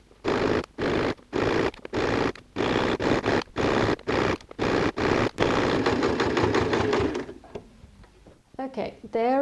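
Jersey stretch binding on a raglan tunic is top-stitched on a sewing machine in a rapid series of short start-stop whirring bursts, then a longer continuous run, loud and close, fading into quieter handling sounds.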